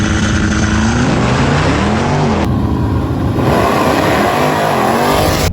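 Loud, continuous roar of a twin turbo Cadillac CTS-V on a drag strip run, engine note rising and falling through gears with heavy low rumble, close and unbroken.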